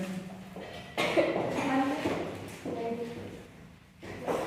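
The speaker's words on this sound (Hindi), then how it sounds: "अच्छा से खांस बराबर ढंग से" A few coughs sound in a classroom, fairly faint and spread across a few seconds, with some movement and a bump nearby.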